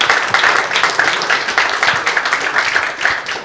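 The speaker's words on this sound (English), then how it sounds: "Another round of applause for all of our panelists." Audience applause in an auditorium at an EU Green Deal event on sustainable food systems at Dubai Expo, moderate and steady clapping for a panel, without talk.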